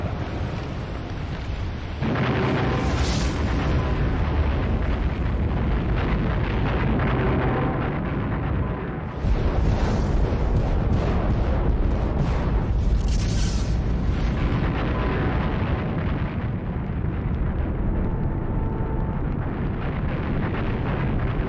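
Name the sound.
super volcano eruption blast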